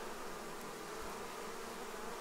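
Honey bees buzzing at a hive entrance during a swarm install in dry weather, a continuous soft drone of many insects, steady and close with no voices.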